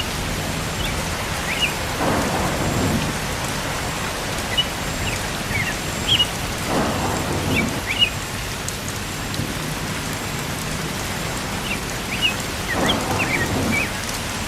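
Heavy rain pours steadily, a dense hiss with occasional louder splashes and faint distant rumbles, no voices.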